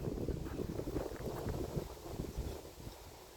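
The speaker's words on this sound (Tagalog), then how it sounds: "Kasi super lakas ng hangin. Nakita nyo? Narinig nyo ang hangin?" Strong wind buffets the microphone outdoors in South Korea in a steady, rumbling roar with gusty low-end thumps and no voices.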